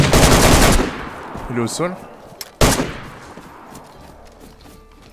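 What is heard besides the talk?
gunshots in DayZ video game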